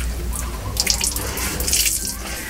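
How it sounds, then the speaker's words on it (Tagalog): Water poured onto a black t-shirt to wet it for bleach tie-dye, a close splashing, trickling pour that swells and fades over a couple of seconds. "Lagyan ng tubig."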